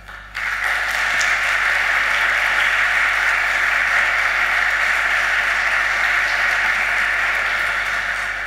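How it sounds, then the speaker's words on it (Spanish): At a university seminar on new immigration and racism in Chile, steady, dense applause starts abruptly and holds at an even, fairly loud level, heard distantly with a hissy, washed-out quality. "recibimos con un fuerte aplauso a la doctora María Emilia Tijous"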